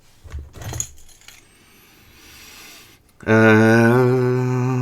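Metal keys from a CEI five-colour lock set down on a hard surface, a short jangle and clink near the start, followed by quiet handling and then a loud sustained tonal hum.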